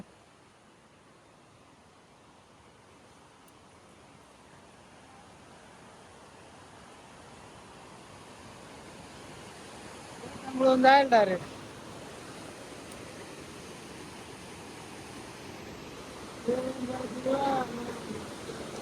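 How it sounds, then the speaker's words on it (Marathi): Fast-moving floodwater rushes past in a steady, broad roar that slowly swells. Voices speak briefly over it twice. "पाणी इतकं चालू आहे"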